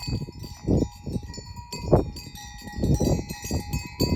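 Metallic bells clank and tinkle irregularly as grazing sheep move about, with soft bleats and rustling, nearby and moderately quiet.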